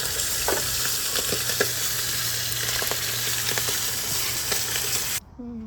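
Sapsap fish frying in used oil, a steady loud sizzle with crackling pops that runs for about five seconds before cutting off abruptly into quieter background.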